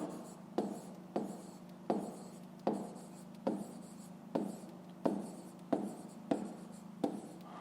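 Pen strokes scratching across paper in a regular rhythm, about a dozen short close strokes roughly every half second to second, each fading quickly, with a faint room hum beneath and no speech.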